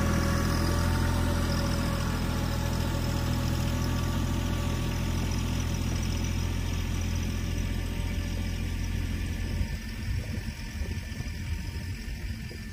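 Bad Boy 3026H compact tractor engine droning steadily and close while pulling a loaded trailer, with a strong low rumble that eases to a lighter idle near the end and no talking.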